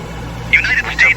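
The piston engines of a PMDG DC-6B in Microsoft Flight Simulator 2020, set to METO power at 48 inches and 2600 RPM, keep up a steady low drone beneath cockpit talk.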